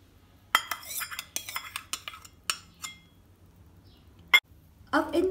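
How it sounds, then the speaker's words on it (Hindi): A spoon clinks and scrapes against a bowl in quick, close bursts as chicken, pineapple, mayonnaise and cream are mixed into a salad, with a voice speaking between the clatter. "अब इन तमाम इंग्रेडिएंट्स को हम अच्छे से मिक्स कर लेंगे।"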